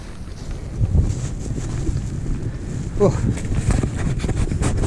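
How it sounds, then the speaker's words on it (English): Cold wind blows outdoors by the water while bass fishing, a steady rumbling buffet across the microphone with gusts, under a person's talking. "That wind's cold."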